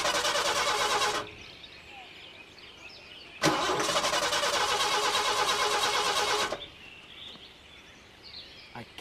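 The engine of a breakdown vehicle starting up, heard as two loud bursts of cranking: a short one at the start and a longer one in the middle, each cutting off abruptly into quiet.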